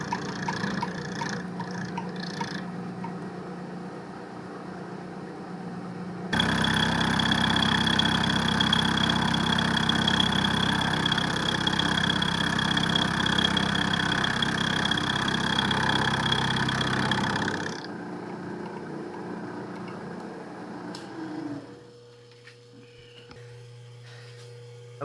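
A 3/4-inch end mill squaring a metal plate: a loud, steady machine whine with a grinding cutting texture runs for several seconds, then drops back to a quieter mechanical hum.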